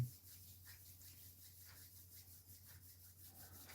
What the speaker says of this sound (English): Bring your hands together, rub them till your skin feels soft.